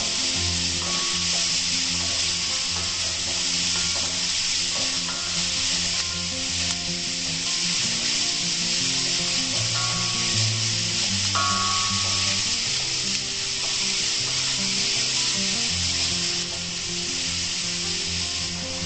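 Water leaf and onions stir-fry in a thick pan, a steady close sizzle with scraping and stirring running throughout, no voices.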